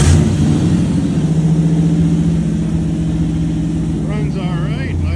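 Chevrolet C10 truck with an LS engine swap running at a steady, loud idle nearby, a continuous low rumble with someone talking over it near the end.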